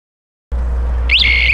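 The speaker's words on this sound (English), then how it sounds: "the AV40 will begin to alarm beyond minimum approach distance for the potential level being tested" A Bierer AV40 non-contact voltage indicator held near an overhead conductor starts to alarm: a steady low hum, then a loud, bright electronic tone that rises and warbles continuously, near and alone.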